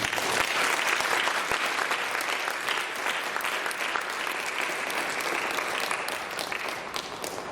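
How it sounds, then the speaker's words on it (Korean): A church congregation at a Korean Full Gospel church service bursts into sustained, dense applause to welcome the pastor to the pulpit, the clapping steady and full throughout with no voices standing out. "목사님 박수로 모시겠습니다."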